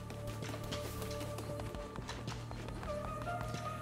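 Horse hooves clip-clop at a quick gallop in the video game Cult of the Lamb, layered over steady game music and effects, moderately loud throughout.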